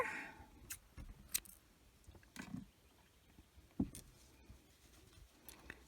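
Scissors snip through yarn during an amigurumi crochet project, a few faint, sharp clicks spread across a quiet background.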